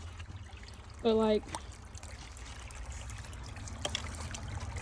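Underground water trickles steadily out of holes in the ground on a hike, a soft continuous dribble, with a brief spoken comment over it.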